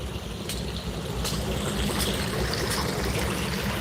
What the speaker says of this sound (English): water fountain.